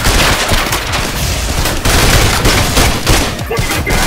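Rapid gunfire from the Trepang2 video game, with sustained overlapping bursts of automatic shots and occasional heavy booms, loud and dense throughout.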